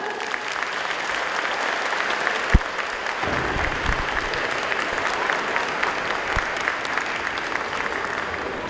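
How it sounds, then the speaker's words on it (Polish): A large audience at a Christmas carol concert by a song and dance ensemble in an old mine venue gives sustained, even applause, with a couple of sharper knocks standing out within the clapping. "Wielkie brawa!"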